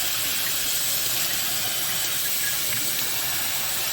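Rice being rinsed under running water in a kitchen, a steady, loud hiss of flowing water throughout with no talking.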